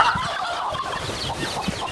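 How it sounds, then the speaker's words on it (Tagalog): Turkeys gobbling on a rural farm, a brief burst of overlapping fowl calls, fairly loud and close with a busy, noisy background. "So dami nilang pabo."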